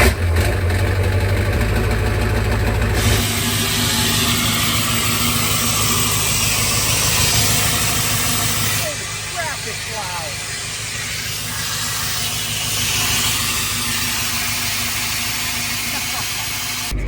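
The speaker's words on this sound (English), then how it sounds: "we just have the downpipe lightly tightened down up there, which should create quite the racket when we go to start this thing" Ford 7.3 Powerstroke diesel truck idling loudly with an open downpipe and no muffler, a steady close rumble with hissing, while a person talks over it.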